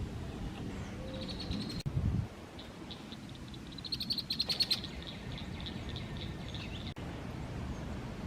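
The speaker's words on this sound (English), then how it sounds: "That's a female red-winged blackbird." A female red-winged blackbird calls near a pond in Jefferson Memorial Forest on an April morning, giving a brief cluster of high chirps midway through a steady wash of wind and rustling leaves.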